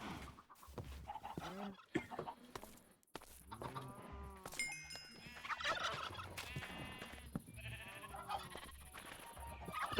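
Several turkeys kept on a homestead farm in Modded Minecraft gobble and chatter in repeated overlapping calls, close and lively, with other farm animal bleats mixed in.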